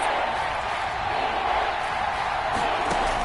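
A Kansas City crowd at a football stadium makes a steady, dense roar through a third-and-goal play, loud and continuous without clear breaks, sounding like a large gathering in an open stadium.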